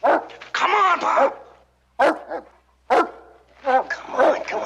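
Dog named Bob barking in the 1959 western series Bonanza, several sharp barks and yips in bursts, close and loud, with speech-like sounds mixed in.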